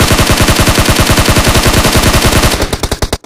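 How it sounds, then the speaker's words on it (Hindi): Rapid automatic gunfire in the battle royale game BGMI, a loud, evenly spaced burst of about two dozen shots that breaks into a few scattered final rounds before stopping. "यहाँ पर मैं अंधाधुन फायरिंग देता हूँ"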